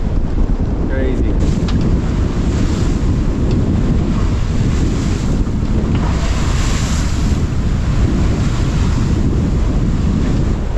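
Strong wind of about 25 knots and rushing waves around a sailboat heading upwind between two islands, a loud, constant roar with heavy wind buffeting on the microphone and splashing water.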